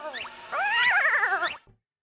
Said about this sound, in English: Oh, that is the sound of the bug-type Caterpie.